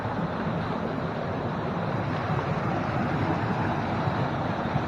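Rushing water from a hidden waterfall in Costa Rica, a steep, dangerous spot, forms a steady, loud broadband roar that fills the whole clip without a break or any voices.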